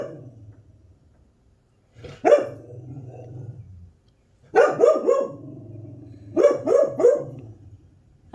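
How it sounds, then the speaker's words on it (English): A dog barks in two clustered bursts of several sharp, fairly close barks, separated by quieter low growling or whining, with no talk over it. "What are you barking at?"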